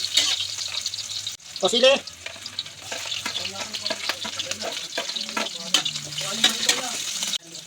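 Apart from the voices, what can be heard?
onion and chili frying in cooking oil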